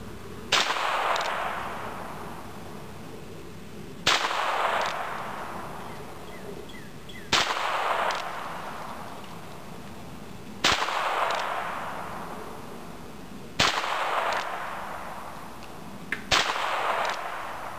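A small Bearcat pistol fires six single shots, sharp and loud, at roughly even three-second intervals. Each crack rings out into a fading outdoor echo, with no talking.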